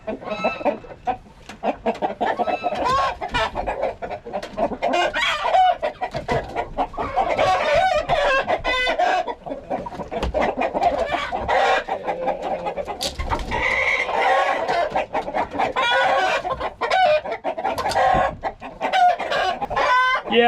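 Chickens and several roosters in a crowded farm coop cluck busily and continuously, with crowing breaking through now and then, close and loud.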